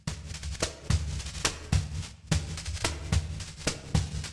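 A pandeiro loop, pitched down two semitones, plays a steady rhythmic pattern of deep thumps and bright jingling slaps, repeating about twice a second at an even, moderate level with no voices.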